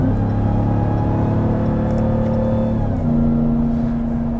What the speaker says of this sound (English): just hearing that supercharger whine, it's so much louder when you've got the trailer hooked up